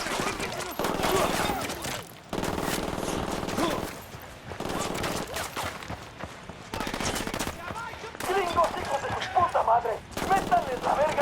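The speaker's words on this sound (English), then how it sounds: "I'm opening fire on these shitheads." Rapid gunfire bursts from the video game Ghost Recon Wildlands, heard as repeated fusillades and machine-gun volleys at moderate loudness across the whole stretch, growing denser toward the end, with talk mixed in.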